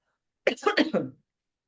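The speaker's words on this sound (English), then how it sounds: "I have to cough" A single short cough, a quick burst of a few harsh pulses, close and alone in otherwise silent surroundings.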